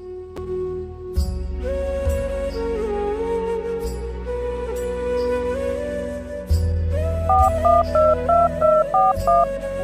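A phone number is dialled as a quick run of about eight evenly spaced keypad tones, loud and close, over a sustained dramatic musical tone.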